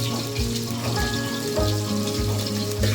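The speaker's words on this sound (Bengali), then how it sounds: "এখন আমি দিয়ে দিব পেঁয়াজ। 3টা পেঁয়াজ কেটে নিয়েছিলাম" Three sliced onions fry in a pan, giving a steady crackling sizzle with faint hum and occasional soft knocks, close and continuous.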